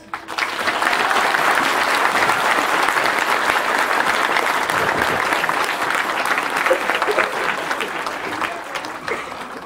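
An audience claps in sustained, dense applause at the inauguration of a veterinary clinic in Tecámac, starting abruptly and holding loud and steady for several seconds before easing slightly. Crowd noise mixes in.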